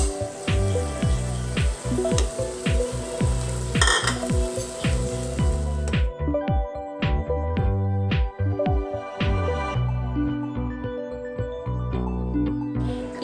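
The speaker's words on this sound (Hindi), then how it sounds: "देखिए फ्रेंड्स, ये हमारी प्याज हो गई है, अब हम इसमें टमाटर प्यूरी डालेंगे।" Onions sizzle loudly in a pan for shahi paneer, with a spoon scraping and stirring. Homemade tomato puree is then added and the hiss drops away, leaving softer bubbling and steady stirring clatter.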